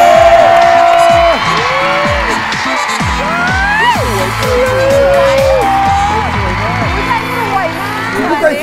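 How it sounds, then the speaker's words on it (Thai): Studio audience on a Thai TV game show applauds and cheers for a family, a steady wash of clapping and crowd noise running throughout under bright musical tones and voices. "ขอเสียงปรบมือกับทั้งครอบครัวเลยครับ"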